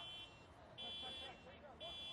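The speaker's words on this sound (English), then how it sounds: "Someone's car alarm is going off." A car alarm sounds somewhere near Blacktown Football Park during a night football match, a faint steady electronic tone that pulses on and off behind distant crowd noise.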